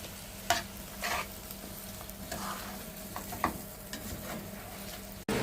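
Cucumber and shrimp stirred together in a pan, soft scraping strokes repeating every second or so over a quiet, constant sizzle, with a sharp clunk at the very end.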